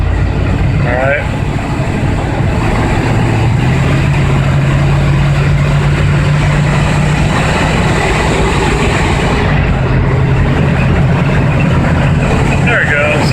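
A 1978 van with a 351W V8 and C6 automatic transmission drives under load, a loud continuous engine drone and road rumble throughout, rising as it pulls through the gears, with someone talking over it.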